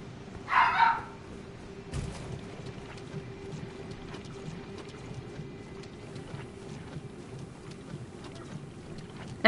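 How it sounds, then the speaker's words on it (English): Short, loud bloodhound barking burst in the Elden Ring video game, heard once near the start, followed by a steady low rumble of game ambience with a faint tone. "That's my dog being mad."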